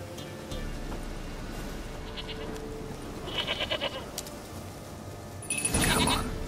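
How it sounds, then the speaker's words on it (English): A goat in The Witcher 3 bleats in short, nasal bursts, one in the middle and a louder one near the end, over a quiet game soundscape. "Here, goat."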